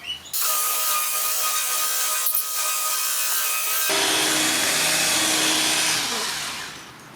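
A Ryobi 18V ONE+ powered outdoor surface cleaner makes a loud motorized scrubbing whir that runs steadily, shifting to a harsher, wetter grinding partway through before tapering off near the end.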